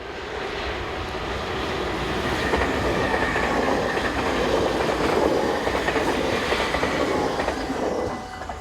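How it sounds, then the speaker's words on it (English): An ICM3 unit and a VIRM Regio Runner pass each other in opposite directions, a loud, sustained rumble and rush of wheels and rails swelling as the trains go by, then easing off. "ICM3 unit number 4230 heads north. Whilst VIRM Regio Runner number 8663 heads in the opposite direction."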